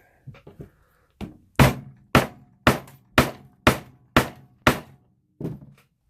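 Rivets are set in a leather scout carry case with a series of about eight sharp, evenly spaced hammer knocks, close and loud, after a few lighter taps.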